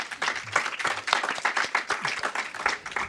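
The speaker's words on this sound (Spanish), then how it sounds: "Les voy a pedir un aplauso para recibirlos en primer lugar." Audience applause greets guests at a master class during a film festival, a dense run of clapping hands that stays fairly steady and close throughout, with no talking over it.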